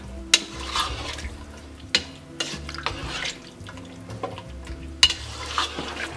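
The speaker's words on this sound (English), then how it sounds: "We'll mix it all together and let it simmer on medium heat" Chickpeas with diced tomatoes and water are stirred in a pot set to simmer on medium heat, with soft scraping stirs, occasional clinks of the spoon and a low bubbling underneath.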